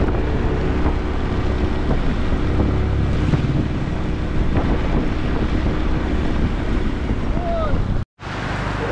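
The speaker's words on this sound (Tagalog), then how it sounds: "Sobrang lakas ng ulan" Heavy rain pours down during a rice and grocery delivery in Angeles, Pampanga, making a loud, unbroken roar that cuts out briefly near the end.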